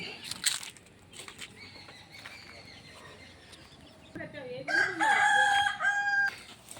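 A rooster crows loudly near the end, with chickens clucking and birds chirping throughout, and a person talking briefly at the start.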